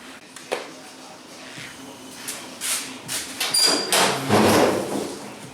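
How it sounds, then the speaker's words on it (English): An OBS truck tailgate is worked open and pulled down. Clicks and a latch release come first, then a rattling metallic clunk and rumble as it drops, all close by. "let me pull this tailgate down and we'll get started on the installation"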